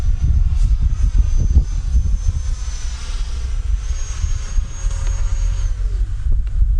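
An RC F-22 Raptor model jet, running on a 22.37-volt pack, flies a stalled inverted pedal turn with full up elevator, its steady whine and whoosh loud and continuous outdoors, with a tone that rises and then drops near the end.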